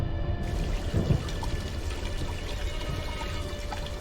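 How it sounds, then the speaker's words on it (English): Water runs steadily from a tap left on in Black Mirror 2, a constant pouring hiss that stays even and fairly quiet, with no voices over it. "as long as the water's running, it might look like someone simply forgot to turn it off"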